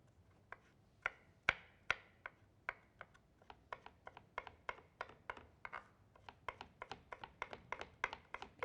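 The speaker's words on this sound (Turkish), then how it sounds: "Ufak ufak sarımsağımı doğruyorum." Garlic being finely chopped with a knife on a board: sharp, distinct taps, sparse at first then quickening into a rapid, fairly even rhythm, close and clear in a quiet kitchen.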